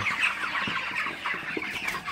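Broiler chickens at about 34 days old, around 2.2 to 2.5 kg, clucking steadily on a poultry farm, with many overlapping soft clucks and chirps close by.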